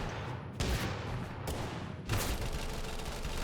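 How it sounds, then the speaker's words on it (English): Shotgun blasts in the video game Totally Accurate Battlegrounds, a few loud bursts with sharp onsets, each trailing off, and no talk over them. "Oh, it's a shotgun."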